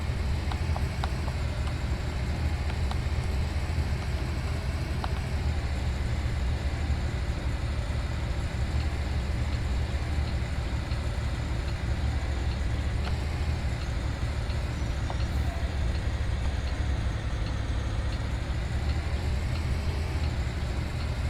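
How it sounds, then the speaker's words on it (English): Loud, steady drone of a Navistar MaxxForce diesel bus engine running continuously from inside the bus, with no talk over it. "I forgot how loud these Max Forces are."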